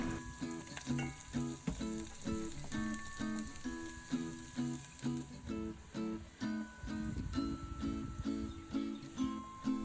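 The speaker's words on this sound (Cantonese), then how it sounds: "用返同一隻鑊，加啲油，然後將啲蒜蓉煎到金黃色" Minced garlic frying in oil in a wok gives a steady, close sizzle across the clip, largely masked by rhythmic background music.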